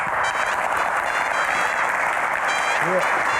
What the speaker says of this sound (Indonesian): Tepuk tangannya boleh lebih meriah lagi